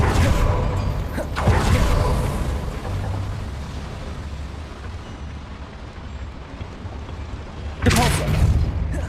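A Confringo fire spell bursts in Hogwarts Legacy with a heavy boom, a long rumbling decay, then a second sharp explosive blast near the end, loud and close.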